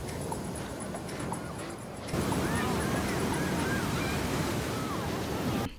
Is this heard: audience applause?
no